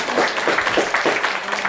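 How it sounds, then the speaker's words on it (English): Audience applause at a First Nation chief and council oath of office ceremony, a steady patter of many hands clapping for under two seconds with some faint voices mixed in. "Let's give them a round of applause."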